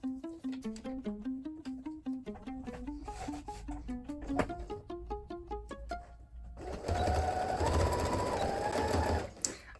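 A sewing machine stitches minky and cotton fabric for a baby blanket, a close rhythmic whirring chatter in quick bursts, then a louder continuous run at the end.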